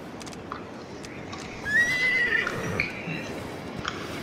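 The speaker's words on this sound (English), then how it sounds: "Is it gonna focus on our horse?" A horse in a Roblox Wild West game gives a single clear whinny midway, with soft hoof clip-clops and game ambience around it and no talk.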